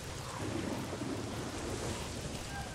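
Steady rain and low rumbling thunder in the video game Days Gone fill the scene continuously as a dense, even wash of downpour with a deep rolling undertone.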